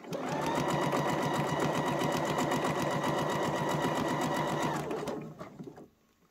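A sewing machine stitches a fabric scrunchie in one continuous, fast, even run of needle strokes, close and clear, slowing and stopping near the end.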